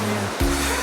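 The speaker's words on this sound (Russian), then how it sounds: "Сегодня на Средиземном море очень большие волны." Big Mediterranean Sea waves at a Marbella beach, a loud continuous roar of surf with one heavy wave surging in partway through.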